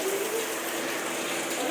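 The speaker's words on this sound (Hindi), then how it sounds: "बारिश तेज हो गई है अब तो मम्मी, बारिश तेज हो गई है।" Heavy rain pouring down outside a home in a steady, dense hiss of falling water, continuous and fairly loud throughout with no break.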